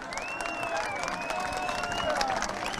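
A large crowd at an outdoor political rally in Balıkesir claps and cheers in a steady, dense wash, with voices calling out over the applause throughout.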